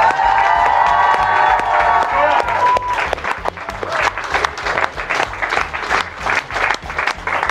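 A crowd applauds and cheers for a boy band on stage, with loud, sustained clapping and scattered whoops filling the hall from start to finish; a bright held tone fades out during the first few seconds.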